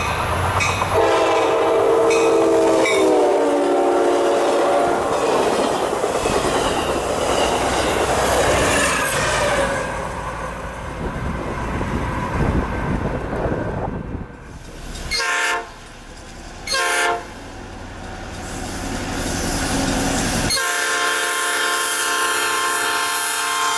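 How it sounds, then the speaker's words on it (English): Amtrak train with the Ocean View dome car in Phase 3 paint on the Michigan line, rolling past with loud rumbling wheels and a horn blast; the roar fades, then gives way to quieter rail noise and clatter. "we set out to record one of Amtrak's only true dome cars, the Ocean View"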